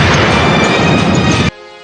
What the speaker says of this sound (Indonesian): Baby nggak bisa menghindari laser besar itu yang meledak dengan dahsyat sampai Bulma melongo